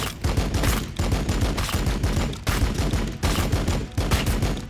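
Sustained automatic gunfire from Blood Angels units in the Warhammer strategy game Battlesector, loud rapid bursts rattling close in several long volleys with brief gaps between them.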